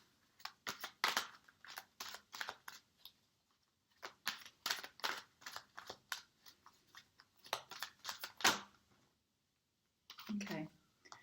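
Tarot cards drawn and handled close up, a series of crisp shuffling flicks and card snaps in bursts separated by short pauses, quiet and without talk.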